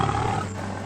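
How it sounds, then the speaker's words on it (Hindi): A lion in a Hindi moral story lets out a short, loud, rumbling roar, close and alone, lasting about a second. "शेर गरजकर"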